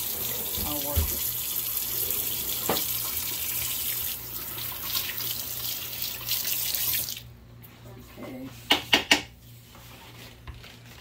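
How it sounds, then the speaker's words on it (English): A utensil being washed under a running kitchen tap, steady close water flow for about seven seconds, then the tap shuts off, followed by a few clinks of the utensil. "Better just go ahead and wash it off."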